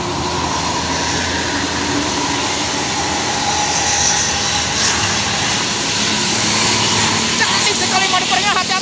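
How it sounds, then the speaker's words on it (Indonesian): A Jetbus coach on the Sidareja–Jakarta route passes on a sharp bend with a loud, steady roar of engine and road noise while someone talks over it. "Sidareja Jakarta, jet bus Gapura Ning Rahayu."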